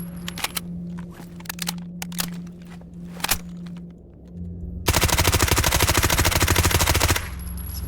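Gunfire from .45 ammunition in the video game Stalker Gamma: a few scattered single shots early on, then a loud, dense sustained burst of rapid automatic fire lasting a couple of seconds.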